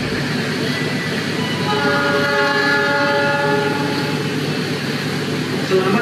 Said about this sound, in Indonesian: berangkat tepat waktu dari stasiun Cilacap, keberangkatan awal menuju Jakarta Gambir